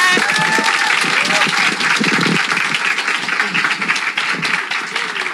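A lecture audience at an evening business seminar claps for the speaker, a close, dense burst of applause with individual hand claps audible, holding steady for several seconds and easing slightly toward the end.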